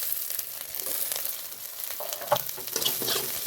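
Diced onion and julienned capsicum sautéing in a pan, with a soft, steady sizzle and a few light stirring scrapes, fairly quiet and close, with no speech.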